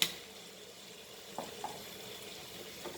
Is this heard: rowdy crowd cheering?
no